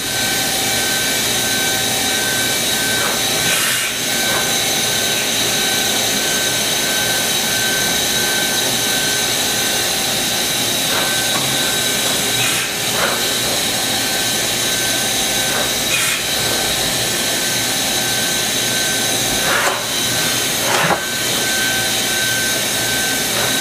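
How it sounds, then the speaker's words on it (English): A Kitamura HX300 horizontal machining center runs its spindle with steady, loud broadband whirring and coolant hiss. A few brief clicks and shifts come from indexing, with no talk. "Machine is equipped with rigid tapping through spindle coolant."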